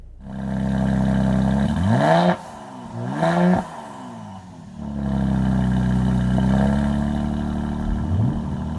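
A 2020 Mercedes-AMG GLC43 SUV engine revs up hard twice in quick succession, the exhaust rising and falling, then settles into a steady, throaty idle nearby.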